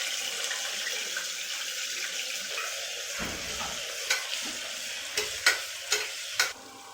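Onion and tomato frying in a pan with mustard seeds and cumin, a continuous low sizzle joined by a run of spoon scrapes and knocks near the end.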